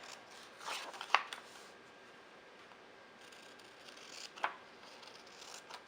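Scissors trimming the top edge of a planner sticker, two faint, quick snips a few seconds apart over quiet room tone.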